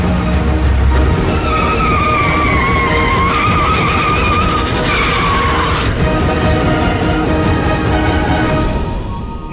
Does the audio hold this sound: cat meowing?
no